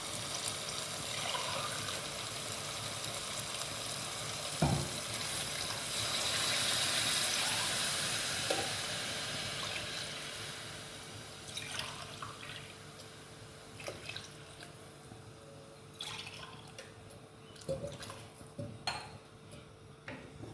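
Water pours and splashes into a metal pot holding rice for chicken biryani, followed by clinks of utensils and scattered drips; close by, no voices.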